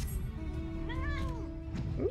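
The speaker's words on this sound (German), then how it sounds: "Katze." A cat in the online game Final Fantasy XIV gives a single clear, drawn-out meow over a low steady game background.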